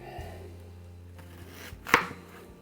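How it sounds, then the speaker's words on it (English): A yellow onion is cut with a knife: after a low steady hum, a single sharp blade strike lands close by near the end, with no speech. "I'm going to take a yellow onion and"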